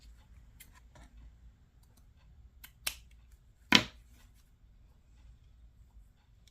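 Scissors trimming craft paper for a decorated booklet, two crisp close snips a second apart, the second louder, against a quiet room.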